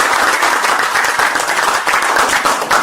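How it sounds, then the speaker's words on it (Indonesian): An audience at a business seminar claps together in sustained, dense applause that stays loud and even throughout. "Tepuk tangan dong."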